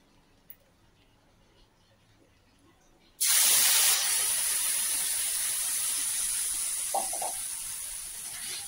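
Cashew and poppy seed paste is poured into a pan of fried fish, setting off a sudden loud hiss that slowly eases into a steady sizzle after a quiet start.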